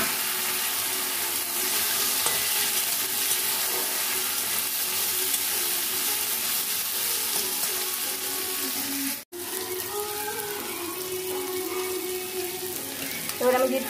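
Chopped tomato sizzles in a pan with fried potatoes and rice, a steady loud frying hiss with stirring scrapes, briefly broken near the end by a short gap, no talk.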